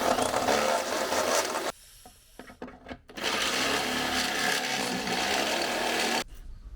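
A power tool grinds loudly as a hole in a Hiace van body is widened for sub-battery wiring, running in two sustained bursts separated by a short pause with a few clanks.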